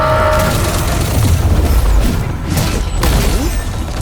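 Explosive blasts from an attack in the video game Arknights: Endfield, set in the Originium Science Park, with loud booming bursts and crackling impacts over a dense, continuous game soundtrack.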